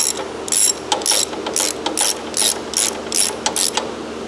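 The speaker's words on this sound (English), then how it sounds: "let's get the ratchet end on it and speed this up a little" A ratchet wrench tightens a bolt on a Country Clipper zero-turn mower during an oil change, clicking in about nine quick, evenly spaced bursts, close and distinct with no talking.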